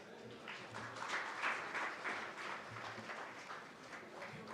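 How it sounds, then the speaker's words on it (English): Steady audience applause fills a ceremony hall at an NTR Trust foundation day celebration as a guest is welcomed, sustained and fairly even throughout with no voices over it. "I request all of you to please give her a big round of applause."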